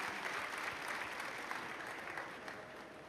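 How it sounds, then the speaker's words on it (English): Faint, steady crowd applause at BlizzCon 2014 as performers exit the stage, an even wash of clapping from a large audience, heard distantly throughout. "why don't you give them a really big round of applause as they exit the stage"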